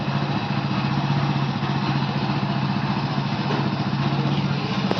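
A motorcycle engine, freshly cold-started, idles steadily and close for several seconds with an even, continuous mechanical putter and no pauses.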